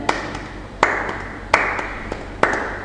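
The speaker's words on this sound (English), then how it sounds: "Or clap out a rhythm." Hands clapping out a steady rhythm, four sharp claps roughly three quarters of a second apart, each with a brief ring in a room, with no voices.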